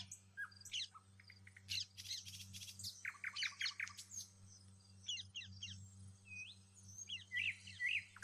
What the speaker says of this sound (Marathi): किती मस्त चिमण्या पण चिवचिव करत आहेत